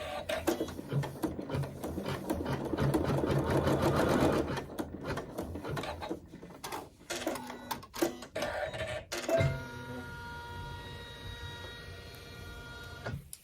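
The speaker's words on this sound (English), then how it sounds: "sew our tack down still with the neutral thread" A sewing machine stitching a fabric tack-down with neutral thread, running in bursts of fast rhythmic needle clatter with short pauses and stops, close and clear, with no talking over it.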